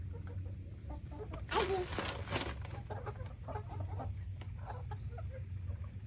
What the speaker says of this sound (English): You want to go see your chickens?